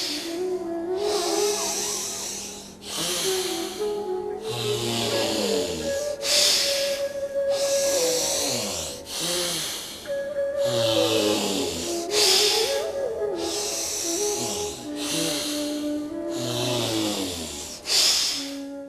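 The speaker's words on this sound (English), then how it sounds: "Inhale through the left nostril. Close the left nostril and exhale through the right." Alternate nostril breathing in a pranayama exercise: forceful, hissing inhales and exhales through the nose repeat in a steady rhythm every few seconds, close and loud over soft sustained music.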